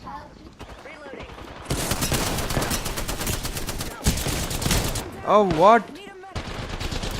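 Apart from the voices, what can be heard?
gunfire in the video game Apex Legends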